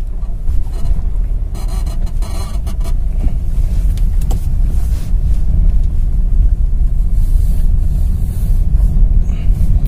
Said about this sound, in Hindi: सेकंड गियर में मैं चला रहा हूं कार को और ये 1000 आरपीएम में 20 की स्पीड में है